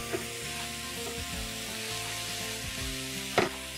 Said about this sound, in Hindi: इसे हम ढक के 3 से 4 मिनट तक पका लेंगे, जब तक फंसी और गाजर हाफ कुक नहीं हो जाते